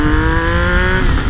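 A 2012 Triumph Street Triple 675 motorcycle with its Daytona-derived engine pulls away from a traffic light, a loud, close engine note rising and holding steady in a harsh revving drone, with no talking over it.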